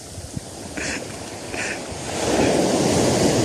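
Heavy surf crashes and roars nearby during fishing in strong wind, with wind buffeting the microphone; the wave noise swells louder toward the end.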